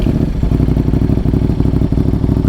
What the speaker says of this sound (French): on retire le débit killer pour voir quel son ça fait. C'est parti, on démarre.